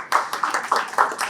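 Applause at a tech conference session, a short burst of fairly close hand claps with uneven rhythmic peaks over about a second, no talk.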